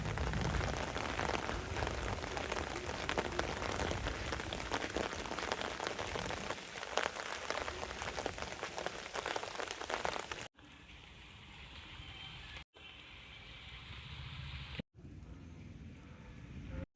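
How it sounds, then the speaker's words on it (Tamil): Steady rain patters densely on surfaces nearby, a constant hiss that drops to a quieter, softer fall in the last few seconds. "மழை வேற பெய்யுது."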